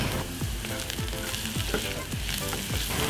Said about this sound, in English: So now I'm going to add in my garlic.